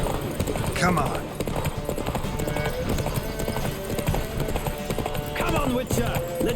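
Hooves of a horse in The Witcher 3 horse race pound in a fast, rhythmic clip-clop close up, with a whinny and shouting voices over the running hoofbeats.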